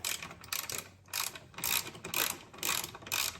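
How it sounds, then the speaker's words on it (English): Ratchet with a 13 mm socket loosening a strut brace bolt on an Audi RS5, a series of quick clicking pawl bursts in an uneven rhythm, close and fairly quiet, with no talking. "So this is a 13 millimeter socket."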